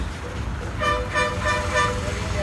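Short, repeated vehicle horn toots sound over a constant rumble of heavy city traffic as a bus approaches on a Sri Lankan road, fairly close, with no talking.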